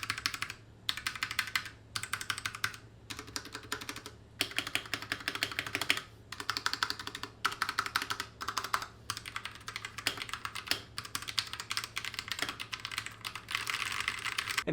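Rapid keystrokes clatter on an RK61 60% mechanical keyboard in continuous bursts with brief pauses, close and crisp over a faint low hum.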